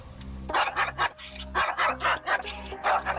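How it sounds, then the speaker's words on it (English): A dog barks in a rapid run of loud, close barks, about a dozen in quick succession with only short gaps between them. "Instead of correcting the dog for barking"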